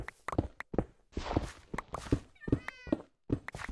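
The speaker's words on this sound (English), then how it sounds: "The little cat noises are making you happy." Minecraft cat noises, a short meow with a trilling purr-like tone in the middle, set among regular blocky footsteps that tap in an even rhythm, fairly close and clear.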